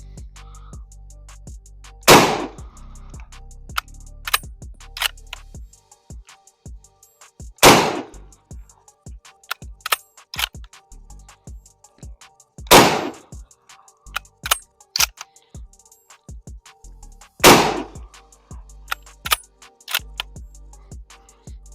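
Gunshots fired at range targets with a handgun, four loud sharp reports spaced about five seconds apart, among many fainter distant shots from other shooters on the range, with no talk.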